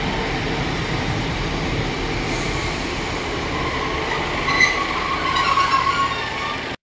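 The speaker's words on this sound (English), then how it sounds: "This train is operating our Chester to Crewe shuttle." A British Rail Class 150 diesel passenger train, 150252, on the Chester to Crewe shuttle at Chester station, rumbles steadily nearby with engine drone and faint wheel squeal, holding loud and constant before cutting off abruptly at the end.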